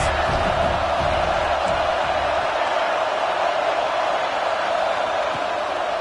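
Stadium crowd roaring for the defense on a third down at a football game, a dense, sustained wall of cheering and noise that holds steady throughout.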